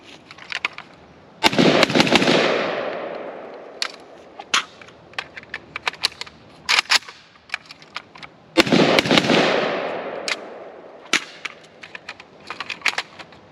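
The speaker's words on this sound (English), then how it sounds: "Now Fox is going to try some mag exchanges with the KP-104." A KUSA KP-104 rifle fires at an outdoor range during magazine exchanges, giving a few loud booming shots with long decaying echoes, mixed with sharp metallic clicks and handling clatter between them.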